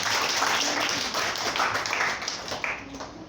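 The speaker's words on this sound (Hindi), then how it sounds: "इनके लिए तालियां बजाओ जल्दी।" Schoolgirls in a classroom at a government girls' senior secondary school clapping together, a brisk, fairly close burst of rapid claps that carries on for several seconds.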